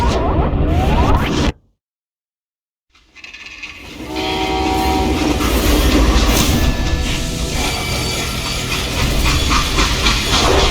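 A freight train in the video game Call of Juarez: Gunslinger rumbles loudly and steadily with a hissing, metallic clatter, after a brief abrupt silence near the start.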